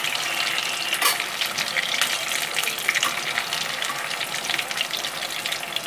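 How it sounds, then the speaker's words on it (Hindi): Large malai kofta balls frying undisturbed in preheated oil, a dense, bright bubbling sizzle that runs loud and steady throughout with no talk. "अभी हम ये थोड़ा फ्राई होने देते हैं, छेड़ना नहीं है। तेल आपका पहले से गर्म होना चाहिए।"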